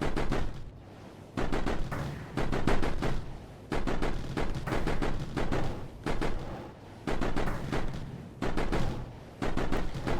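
Rapid bursts of heavy gunfire from the Afflict weapon shelling enemies in a video game, loud repeated volleys broken by short pauses.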